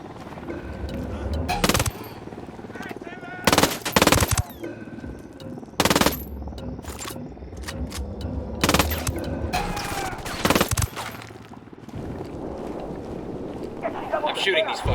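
Bursts of automatic gunfire crackle through a Ghost Recon Wildlands firefight, several sharp volleys spaced across the stretch over a background of ambient game sound, with a voice speaking between the shots.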